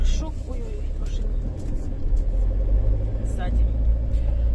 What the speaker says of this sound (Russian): Ой-ой-ой, машина.